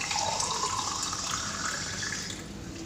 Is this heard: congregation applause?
no